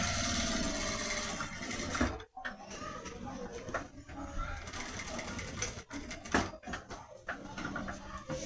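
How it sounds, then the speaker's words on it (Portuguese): A sewing machine back-stitches and sews crystal plastic onto a pouch, its running whir broken by brief pauses and clicks as the stitching reverses, close and steady throughout. "Dou retrocesso novamente e continuo a costura."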